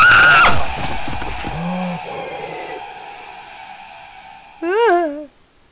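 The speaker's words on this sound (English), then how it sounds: "Sneaker will scream like a girl" Loud high-pitched scream at the very start, wavering and piercing, followed by quieter voices and sounds, then a second shrill wavering squeal near the end.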